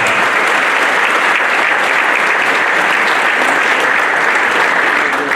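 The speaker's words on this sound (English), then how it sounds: "So give yourselves a round of applause for that." Loud, steady applause fills a banquet hall at a Hall of Fame induction dinner for a softball association, a dense, continuous wash of many hands clapping with no voices standing out.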